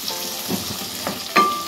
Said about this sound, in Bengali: পেঁয়াজ কুচি এবং পেঁয়াজগুলিকে আমরা গোল্ডেন ব্রাউন করে ভেজে নেব